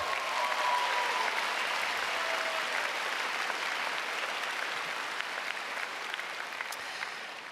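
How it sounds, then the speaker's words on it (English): Audience applause rings out for performers at a Class of 2022 commencement ceremony, a dense, steady clapping from a large crowd that holds for several seconds and tapers only slightly near the end. "Let's give another round of applause for all of our performers"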